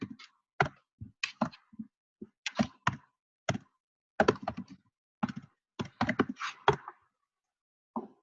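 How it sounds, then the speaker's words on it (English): Keys on a computer keyboard are tapped in short irregular bursts of crisp, close clicks separated by brief silences, as a name is entered. "if I go back in here and type Laura's name"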